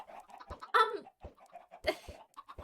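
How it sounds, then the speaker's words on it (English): End chickens in the Minecraft video game give short, quiet clucks in scattered bursts, with a couple of louder squawks standing out. "Yes, they're end chickens."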